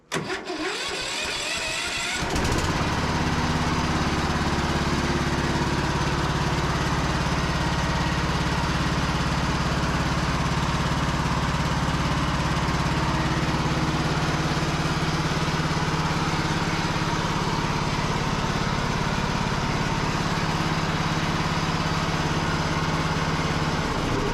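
A Cub Cadet tractor engine cranks for about two seconds, catches, and settles into a loud, steady, close-up idle with no talking.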